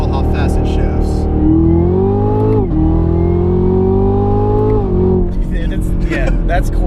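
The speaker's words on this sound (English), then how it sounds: "listen to when I click the paddle how fast it shifts." A 2017 Camaro ZL1 with a 10-speed automatic accelerates hard, its loud engine note climbing and then dropping sharply at two quick paddle shifts before rising again, with people talking over it.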